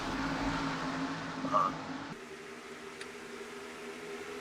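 A pack of race cars roars around Daytona International Speedway in a racing video game, a steady engine drone that shifts pitch partway through, heard under a commentator's voice.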